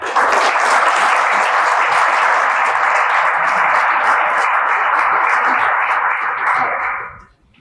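An audience applauds to welcome a keynote speaker at a Top 40 Under 40 event: dense, steady clapping from many hands, loud and sustained for about seven seconds before quickly dying away.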